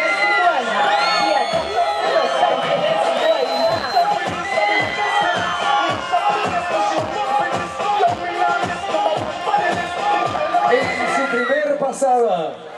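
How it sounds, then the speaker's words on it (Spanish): At a pageant crowning a departmental queen in Chicoana, a crowd cheers, whoops and shouts for a candidate, with rhythmic clapping running through the noisy babble for the whole stretch. "Recibimos con fuertes aplausos a la candidata"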